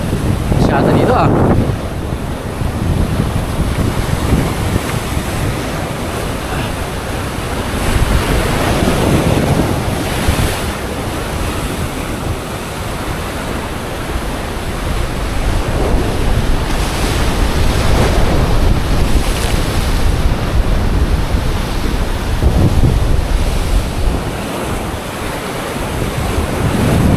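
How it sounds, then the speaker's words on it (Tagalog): Strong wind at sea buffets the microphone over rolling surf while fishing from a boat, a steady roaring rush of air and water that swells and eases throughout with no voices. "Lakas ng hangin."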